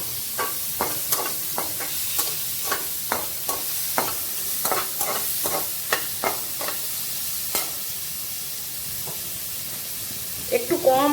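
Chalta pieces frying with salt and turmeric in mustard oil over low heat: a soft steady sizzle under repeated sharp clacks of a spatula stirring against the pan, a dozen or so strokes, and a brief voice near the end.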